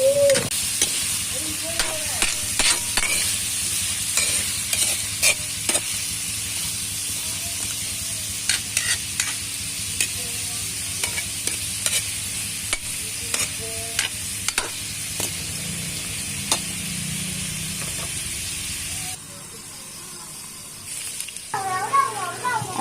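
Vegetables simmering in coconut milk for ginataang gulay, a steady bubbling sizzle with frequent clinks and scrapes of a spoon stirring the pot, a brief lid-like pause near the end and some voice in the background.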